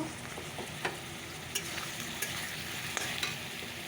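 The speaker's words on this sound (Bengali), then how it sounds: "সবজিটা একটু ভাজা ভাজা করে নিই" Potato and vegetable stalk pieces fry in hot oil in a pan for a fish curry, with a steady close sizzle broken by several sharp stirring scrapes of a spatula.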